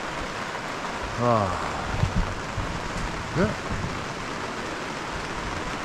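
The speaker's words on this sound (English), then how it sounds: "And it is raining." Rain falls steadily on a greenhouse, a continuous broadband patter heard from inside, with a brief spoken word and a few faint background tones over the wash.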